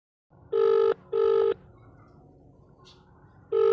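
A telephone in an animated comedy gives a tone-like ring in three clear bursts: two close together, a pause with faint background sound, then a third ring starting.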